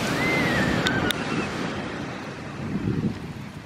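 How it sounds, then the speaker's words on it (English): Ocean waves wash onto the beach at Cape May, a broad rushing surf close to the microphone with wind buffeting, a brief whistle-like tone and a couple of sharp clicks early on before the wash softens. "I took some clips of the ocean down by the water."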